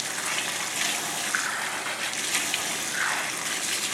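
Hot water runs steadily from a tap over a slow juicer auger being rinsed, a continuous broadband gush with small splashing changes as the part moves under the stream, close and fairly loud, no voices.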